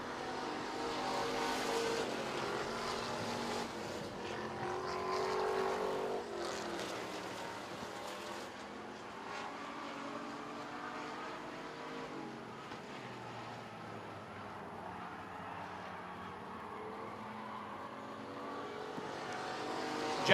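Racing trucks roaring around an American Trucks race track during a heat, a dense continuous engine drone that swells early and then settles into a steady, slightly distant wash, with no talk.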